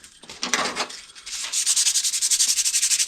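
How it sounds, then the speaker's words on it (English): Sanding rusted metal on a 1957 Chevy door before welding: rough scraping passes at first, then a steady back-and-forth rhythmic rasp, loud and close with no voices. "I meant to sand this first."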